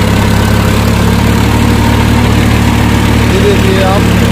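A Swaraj 960 FE 60 hp tractor engine runs steadily at 1600 RPM in second gear high while pulling a cultivator, giving a loud, constant low diesel drone with no talk.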